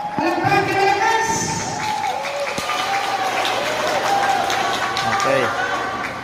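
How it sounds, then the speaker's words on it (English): Crowd applause and cheering at moderate volume, with voices and shouts over the clapping, continuing steadily throughout. "let's give a warm applause to this great warriors"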